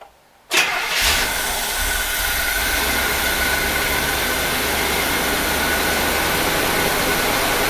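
A 1975 C3 Corvette engine cranks and starts, then settles into a steady, loud idle with no lifter tick that runs without letup after a brief silent moment.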